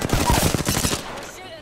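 Rapid automatic gunfire from a shooter video game, a dense burst of shots for about a second that then fades out.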